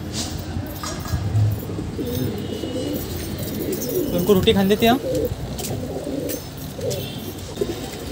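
Pigeons coo inside a home loft, with a distinct burst of throaty cooing in the middle rising over someone talking nearby and softer bird sounds around it.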